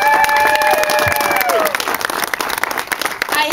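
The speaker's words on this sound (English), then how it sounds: "please give yourselves an incredible round of applause" A crowd at an American Cancer Society donation event claps and cheers for itself, a loud, dense wash of hands with high whoops and shouts rising over it near the start, continuing strongly throughout.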